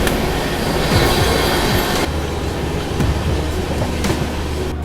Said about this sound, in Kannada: ಮತ್ತೊಂದು ಟ್ರೈನ್ ಬಂತು ನೋಡ್ರಿ ಇಲ್ಲಿ ಓವರ್ಟೇಕಿಂಗ್.